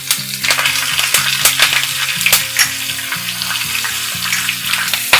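Curry leaves, black pepper and cumin sizzle in hot ghee for a red rice pongal tempering, with crackling and popping bursts over a steady frying hiss, close and loud, with occasional metal stirring clinks.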